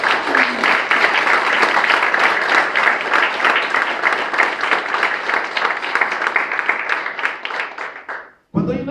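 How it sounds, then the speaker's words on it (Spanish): A church congregation bursts into loud, sustained applause, dense overlapping claps with some voices mixed in, holding steady before tapering off and cutting to silence near the end. "¿Y cuántos le pueden dar un fuerte aplauso al Señor?"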